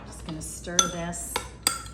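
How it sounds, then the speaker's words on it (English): Utensil stirring garlic through a tomato and cucumber salsa with mint and dill in a bowl, giving a few close, light clinks and scrapes against the dish spread over two seconds. "stir this"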